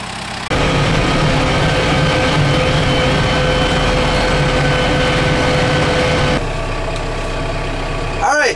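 A farm tractor engine runs loud and close with a steady low drone for several seconds, then settles to a lower idle-like hum near the end.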